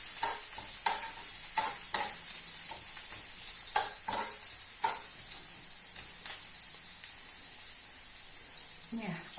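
Garlic and ginger fry in hot oil, making a continuous bright sizzle with repeated clicks and scrapes of stirring close by, steady and fairly quiet throughout.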